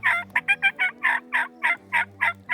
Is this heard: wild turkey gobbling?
yes